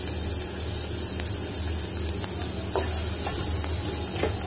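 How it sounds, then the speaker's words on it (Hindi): Garlic being fried in hot oil for veg momos, giving a steady, close sizzle and hiss with a few faint stirring clicks and no voices. "अब मैं सबसे पहले इसमें लहसुन डालूंगी"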